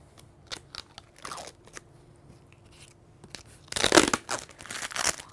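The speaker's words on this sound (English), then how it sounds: "we're going to remove the protective film on the bottom of our serving tray" Protective film is peeled from the bottom of a sublimation serving tray, making soft crinkles and then a louder burst of tearing and crackling near the end, close up with no talking.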